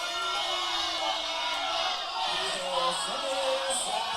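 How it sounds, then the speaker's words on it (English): A crowd at a Texoma Pro Wrestling show cheers and whoops in an arena, with loud sustained shouting and a few yells rising above the din. "You hear the hood cheering for the toughest man in Texas."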